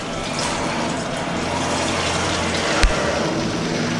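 Steady running water pours from a kitchen tap as hands are washed after flouring chicken, a continuous even rush close by with one brief knock near the end.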